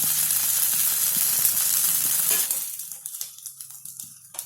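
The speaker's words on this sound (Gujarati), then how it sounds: "જો આવી ગોલ્ડન કલરની થાય ને એવી શેકી લેવાની બધી થાલીપીઠ." Farali thalipeeth roasting golden in a pan gives a steady loud sizzle that thins into softer crackles and pops as it settles.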